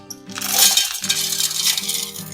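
Rock sugar crystals being crushed for churma laddu, a sharp clinking, grinding rattle in two bursts with a brief pause between, close and fairly loud.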